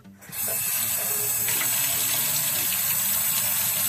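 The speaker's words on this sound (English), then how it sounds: "So let's hit it up with hot water." Hot tap water gushes into a sink over raw wool fleece during a suint-method rinse, starting abruptly and then roaring steadily and close, with no talking.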